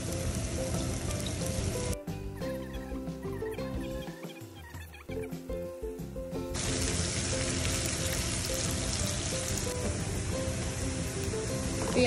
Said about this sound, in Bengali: চিংড়ির দো পেঁয়াজার জন্য পেঁয়াজগুলো একটু ভেজে নেব।